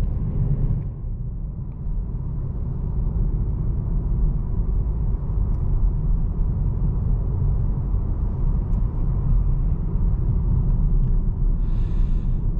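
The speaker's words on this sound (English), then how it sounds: "The engine is very quiet at low RPMs" The 2022 Jaguar XF R-Dynamic SE mild hybrid engine idling and creeping in stop-and-go traffic, a steady low, quiet rumble inside the cabin throughout, with no talk.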